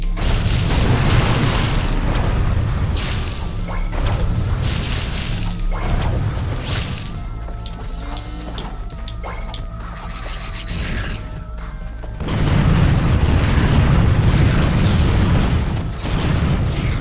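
Devastator explosions boom repeatedly in Ratchet & Clank, loud heavy blasts and crashing debris layered over game effects and a dense rumbling backdrop, with brief quieter gaps between bursts.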